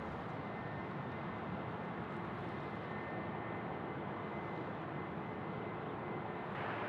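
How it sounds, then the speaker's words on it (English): A Qantas Boeing 787 arriving from Dallas landing at Sydney Airport, a steady broad jet roar heard at moderate distance, holding level and unbroken throughout. "here we go, 787. This is Qantas 8 in from Dallas has joined us here on runway right."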